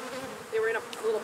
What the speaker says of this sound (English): Just shaking a few bees off where the queen might be.